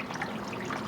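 Dirty water mixed with Tide detergent being wrung out of a floor-cleaning pad, a brief close trickle and splash of liquid dripping into a bucket.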